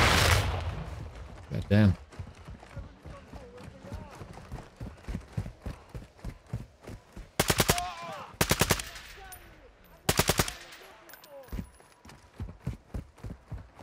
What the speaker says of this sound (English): This M13 is the best for killing bots.